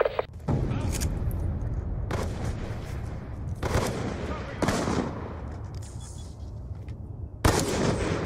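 Bursts of gunfire in the shooter Black Ops 2, several loud separate volleys and booms with short gaps between them, heavy and close throughout.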